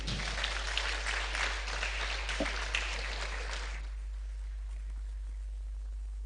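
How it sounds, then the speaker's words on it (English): Conference audience applauding a professor at a media event: dense, even clapping for about four seconds that stops abruptly, leaving a quiet room with a low steady hum. "Please clap for him again."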